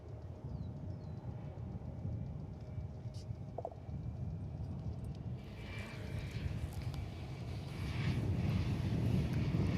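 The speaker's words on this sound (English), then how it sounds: "So there goes an Airbus A321." An Airbus A321 airliner, American Flight 2554, departs Dallas/Fort Worth Airport as a distant jet rumble that swells louder toward the end over faint background noise.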